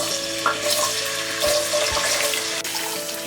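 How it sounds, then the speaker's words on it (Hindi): Potatoes fry in hot oil in a pan over a medium gas flame, giving a steady, close hiss and crackle with a few small clinks. The sound runs alone for a few seconds. "हम आलूओं को मीडियम फ्लेम में फ्राई करेंगे"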